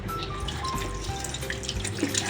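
Tap water runs steadily over moringa leaves being washed in a kitchen sink, a soft continuous splashing stream with faint dripping, heard alone and fairly close.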